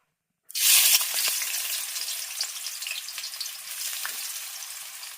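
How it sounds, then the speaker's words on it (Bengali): Onions hit a hot oiled wok for chicken biryani, bursting into a loud sudden sizzle that settles into steady crackling frying with light stirring, no talk. "কড়াইটাও গরম হয়ে গেছে এখন আমি পেঁয়াজটা দিয়ে দেব"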